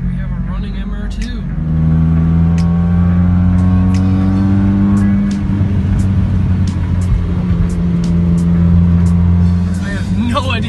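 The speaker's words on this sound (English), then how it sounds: "Let's start it up, so we'll give this a shot." A supercharged Toyota MR2 AW11 engine starts and settles into a steady, droning idle with a few light revs, heard up close and loud.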